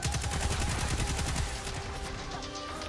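Rapid automatic weapon fire in the sci-fi shooter Destiny 2, a dense, loud, continuous stream of shots that eases slightly toward the end, with no voices over it.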